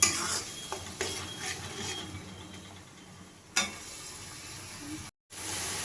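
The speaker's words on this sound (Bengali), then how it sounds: "এবার মশলাটাকে আমি ভালোভাবে কষিয়ে নেব।" Spice paste with ginger is stirred and roasted in a pan for masala pabda fish, with repeated scraping and clinking strokes, a sharper knock partway through and a low sizzle beneath.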